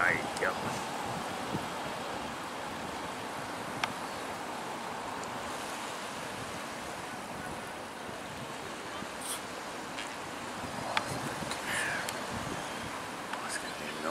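Steady wind rushes and buffets the microphone alongside surf-like water noise, continuous and fairly loud throughout, with a few faint knocks.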